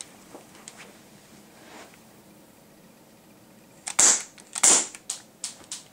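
A CO2 non-blowback airsoft gun fires semi-automatic shots, a few sharp separate snaps close by after a quiet stretch, with fainter clicks around them.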